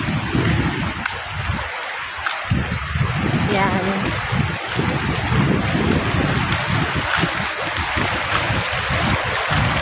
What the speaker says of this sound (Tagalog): Malaking sapa dito sa amin po.